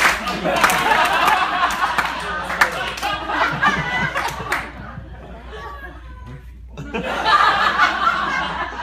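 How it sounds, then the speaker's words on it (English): An audience gives a requested slow clap, with laughter and chatter mixed in; the applause breaks off partway, then returns loudly. "if we could get uh, slow clap, slow clap"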